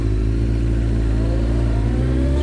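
A 1993 Honda CBR900RR Fireblade motorcycle engine revs with a deep, steady, close-up drone, pitch rising slightly toward the end.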